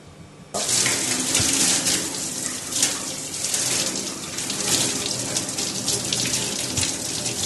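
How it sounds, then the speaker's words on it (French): Tap water gushes steadily into a sink while salmon is rinsed before smoking, starting abruptly and running loud and close with a constant splashing hiss. "Et avec ce saumon, je vais aller le rincer."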